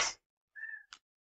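A single short, clear cat meow sounds close by and fairly quiet, preceded by a brief noise burst and followed by a soft click.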